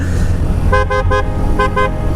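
A private car horn toots in two short double bursts, bright and steady-pitched, over a constant low traffic rumble.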